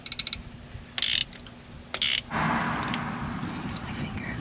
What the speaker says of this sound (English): now we've got a 5/8 deep socket and a pretty long extension. There we go, loosened her up